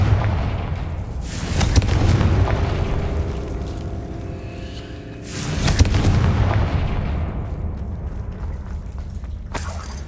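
Fire spell explosions going off in a Harry Potter video game, two heavy booming blasts about four seconds apart, each with a rumbling, crackling tail and a faint tonal hum between them.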